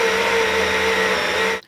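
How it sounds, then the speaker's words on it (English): A Baratza Sette 270 espresso grinder grinds coffee with a loud, steady high-pitched motor whine and burr roar, holding constant before cutting off abruptly near the end. "The Sette 270 takes the top spot as the loudest grinder on our list, hitting decibel levels in the low 80s."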